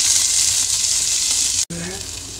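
Onion, green chili and curry leaves sizzle steadily in a hot pan, a loud continuous frying hiss that breaks off briefly and resumes a little quieter.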